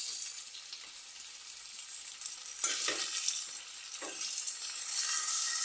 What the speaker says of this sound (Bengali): আদা রসুনগুলো ভালোভাবে ভেজে নেব কাঁচা গন্ধটা চলে যায়